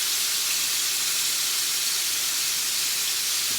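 Steady, bright sizzling of rosemary dropped into hot olive oil in a pan, a constant spitting hiss throughout with no voice over it.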